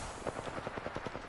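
Rapid automatic gunfire in a shooter video game: a fast, even string of about a dozen shots over roughly a second, moderately loud over dense background game noise.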